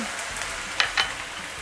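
Shrimp balls and Taiwanese bok choy stir-frying in a pan, a steady close sizzle broken by two quick sharp clinks of a utensil.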